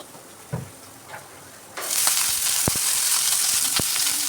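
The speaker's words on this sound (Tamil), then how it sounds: "வெங்காயம் போட்டிருக்கேன். அது கொஞ்சம் எண்ணெய் ஊற்றி வதக்கிக்கணும்." Onion and garlic hit hot oil in a pan and break into a loud, steady sizzle after a couple of quiet stirring knocks, with occasional sharp crackles and pops throughout.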